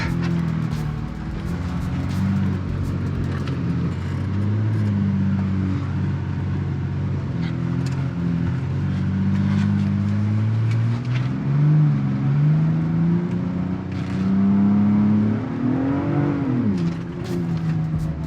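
2022 Ford Bronco Raptor engine on a beach during a U-turn, a steady loud close drone that swells and rises in pitch as it revs, with no talking.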